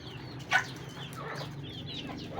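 Native chickens kept as backyard stock cluck softly and steadily in the background, with one brief louder squawk near the start, no talking.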